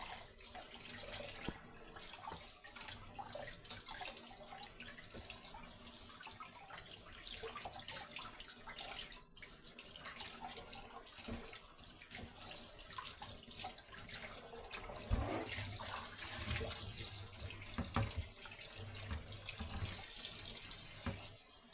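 Water runs steadily from a kitchen tap over meat being rinsed, a continuous splashing stream that carries on without a break.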